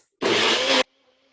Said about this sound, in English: I'm gonna put my top on and I'm going to mix